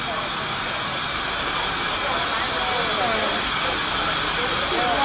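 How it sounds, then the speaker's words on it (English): An 1880 steam locomotive being serviced and greased at a station hisses steam in a steady, loud, continuous rush that builds slightly toward the end, with no clear talk. "He's servicing the steam locomotive."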